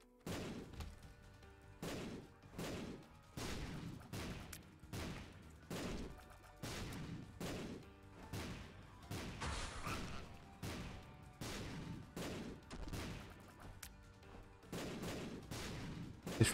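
Rapid bursts of shots fire in the video game The Binding of Isaac, a rhythmic series of sharp repeated pulses with short gaps between volleys, fairly quiet overall.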